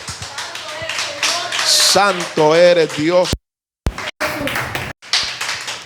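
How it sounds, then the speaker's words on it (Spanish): A church congregation claps during worship, a steady patter of hands running under singing voices, stopping briefly before resuming at the end. "Dale otro aplauso al Rey de Reyes."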